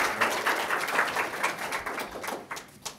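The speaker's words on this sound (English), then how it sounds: "So please give him a round of applause." Audience applause at a restorative justice talk, a steady patter of many hands clapping that thins out toward the end into a few last scattered claps.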